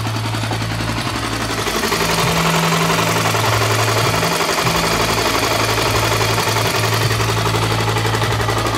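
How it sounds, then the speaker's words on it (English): A Honda XR600R dirt bike engine runs steadily after carburetor and fluid work, a loud, close, throbbing idle with a rough knocking pulse that continues without a break and with no voices. "it's a great running motor there. Looks like this is gonna be a good dirt bike"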